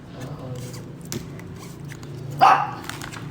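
A pet dog gives one short bark at moderate distance over a steady indoor room hum, with faint background voices around it.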